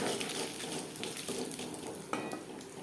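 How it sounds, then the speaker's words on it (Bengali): Bay leaf and five-spice seeds crackle in hot oil for a Katla fish curry tempering, a dense busy sizzle with light clinks of a utensil against the pan. "মাছ ভেজে না তেলে ফোড়নে দিয়ে দেবো ফোড়ন তেজপাতা"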